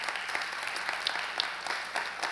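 A church congregation applauds God during a Sunday service: steady, moderately distant clapping from many hands, dense and even throughout with no voices rising above it.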